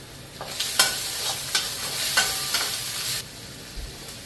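Egg curry frying with sugar, turmeric and Kashmiri red chili powder, a spoon scraping and stirring the pan in several sharp strokes over a soft sizzle, then the stirring stops.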